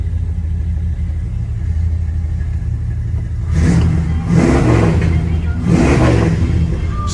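A 1967 Ford Galaxie 500 convertible's big block V8 idles with a deep rumble, then revs in three loud swelling bursts close by, settling back to idle between them.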